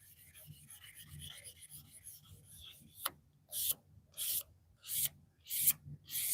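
Leather is rubbed with 1200 grit automotive sandpaper in short, rhythmic back-and-forth scratchy strokes, faint at first, then coming in distinct louder passes.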